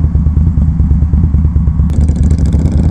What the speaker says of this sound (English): No, that's a Marauder. Suzuki Marauder.